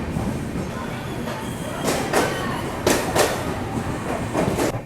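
Patna-Howrah Express rolling along, a continuous low rumble of wheels on rails with periodic clacks and hissing bursts, heard from inside the coach.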